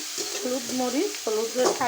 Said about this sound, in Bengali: মরিচ আর লবণ, পেঁয়াজ আর সামান্য একটু তেল দিয়ে মশলাটা ভাজা করে নিলাম